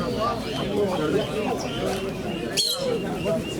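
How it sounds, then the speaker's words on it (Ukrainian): Pigeons coo softly at an outdoor fair and exhibition in Voznesensk, their low murmuring calls mixed into a busy backdrop of chatter and crowd babble, moderately close but partly masked by voices. "Диви, які красиві, що голуби."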